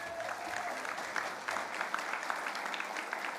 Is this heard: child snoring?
no